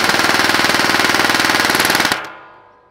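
M4 V12 gel blaster firing on full auto at about 20 rounds per second: a fast, steady, loud buzzing rattle of shots for about two seconds that stops abruptly and fades out.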